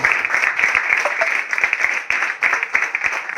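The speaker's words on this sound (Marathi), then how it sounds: "जोरदार टाळ्यांचा गडगडाट आवाज आला पाहिजे" A crowd applauds at a cricket player auction as a trophy is unveiled, giving a dense burst of clapping that swells and dips over a few seconds, with faint voices in the background.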